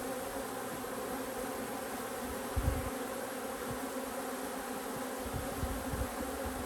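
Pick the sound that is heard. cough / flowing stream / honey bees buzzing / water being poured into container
honey bees buzzing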